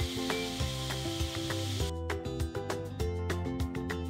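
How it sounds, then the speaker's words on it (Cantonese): Pork belly and chikuwa rolls with molten cheese sizzle steadily in a pan, a continuous moderate frying hiss under a layer of background music. "將豬腩卷煎到金黃色"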